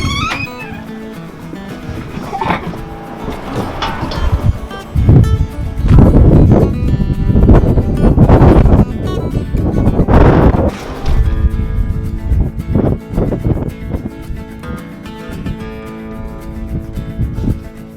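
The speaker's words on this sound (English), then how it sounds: "it is so windy today" Strong wind blowing outdoors on a cold day, buffeting the microphone in uneven gusts and rumbles, with rustling, occasional faint voices and footsteps mixed in.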